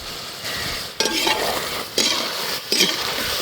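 Ground cumin, fennel and pepper masala frying for a country rooster curry, a steady sizzle broken by three scraping stirs of a spoon against the pan at roughly one-second intervals, close by with no talking.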